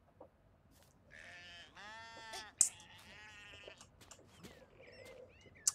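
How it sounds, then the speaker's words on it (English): Sheep in the Just Die Already video game bleat in several short wavering calls, with sharp game effects and thumps between them at moderate loudness. "Oh my gosh, look at these sheep."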